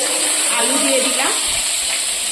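Potatoes frying in hot oil in a pan with dry red chilli, bay leaves and a five-spice tempering, a steady close sizzle with stirring scrapes running through the whole stretch, no voices.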